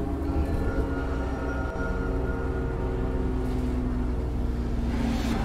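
Train in the horror video game ChooChoo Charles, a steady low rumble with rolling, droning tones that holds at a constant loudness throughout, with no speech.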